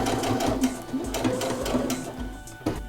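A sewing machine stitches fabric for a Halloween tote bag, running in a steady rhythmic whir of needle strokes, close and continuous.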